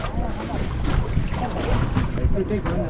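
A boat out at sea on a water-sports trip off Ratnagiri, with a steady engine and water rumble, sloshing waves and wind buffeting the microphone throughout, loud and close.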